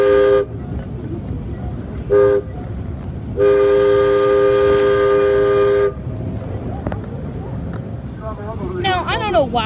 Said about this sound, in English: that diesel unit has a steam train whistle or an air whistle